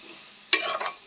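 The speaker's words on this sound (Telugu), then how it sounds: "ఇప్పుడు మనం ఇది కలుపుకోవాలి." A spoon stirs chilli powder into a fish curry base frying in a pan, a short sizzling scrape starting abruptly after quiet and fading within half a second, close and fairly faint.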